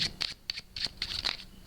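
A deck of playing cards being shuffled by hand during a card-magic setup, a series of quick crisp riffling bursts in an irregular rhythm, close and moderately quiet.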